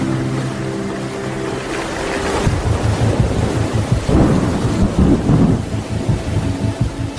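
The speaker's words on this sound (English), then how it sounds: "It's quite dramatic weather. The waves are coming in and they make the boat roll, so just hopefully none of these little storms turn into a big storm." A storm at sea around a rolling sailboat in the Lau Group of Fiji brings a loud, sustained roar of wind, rain and waves with deep rumbling thunder, and no voices.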